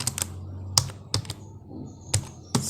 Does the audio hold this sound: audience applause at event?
no